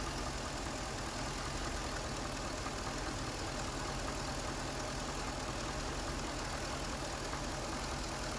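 A GM LS V8 car engine idles steadily with its oil filler cap removed, a constant close mechanical hum and rumble running unbroken throughout with no voices.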